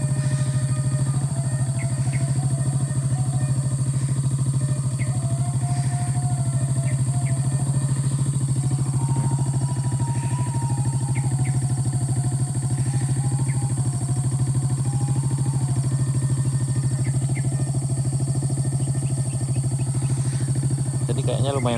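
A constant loud engine drone fills the Solok road, with many motorcycles passing and faint higher whines and clatter drifting over the steady hum.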